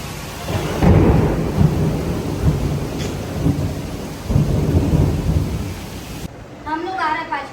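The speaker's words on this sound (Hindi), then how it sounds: "इतनी तेज बरसात शुरू हो गई" Heavy rain pours steadily with deep rolling thunder and gusting wind, loud and close; a voice speaks briefly near the end.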